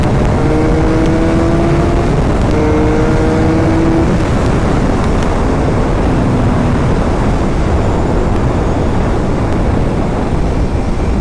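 A 2013 Suzuki GSX-R 750 motorcycle accelerating hard to pass a tractor trailer on the road, engine pitch climbing through gears beneath loud, constant wind rush, close and dominant throughout.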